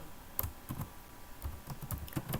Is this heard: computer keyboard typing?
yes